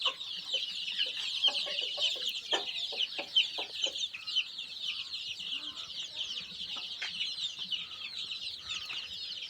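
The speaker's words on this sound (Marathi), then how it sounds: "इकडे आपले दुसरे कोंबडे आहेत." Kaveri chickens cluck and chatter continuously inside a farm shed, a dense, steady flock sound at moderate distance with scattered sharper calls throughout.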